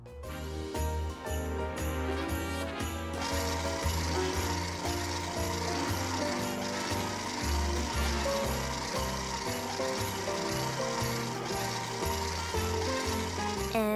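Electric mixer beating gingerbread cookie dough with softened butter, a loud, steady mechanical whirring with a fast rhythmic ratcheting clatter that runs continuously, close up with no talking.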